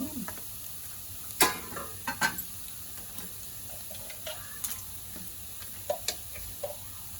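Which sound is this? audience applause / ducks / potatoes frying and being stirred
potatoes frying and being stirred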